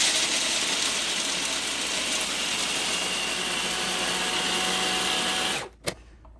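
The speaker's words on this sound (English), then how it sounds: "When you stop hearing the nuts clanking inside the food processor, it means that you are almost there." A food processor grinds pistachios and walnuts with a loud, steady whir as the hard nut pieces clatter and rattle inside the bowl, then the motor stops abruptly near the end with a brief final clunk.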